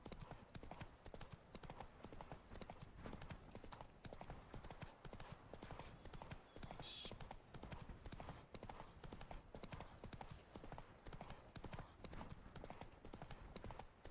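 Hooves of Geralt's horse Roach trotting in The Witcher 3: Blood and Wine, a steady rapid clip-clop rhythm that runs without a break, faint and even throughout.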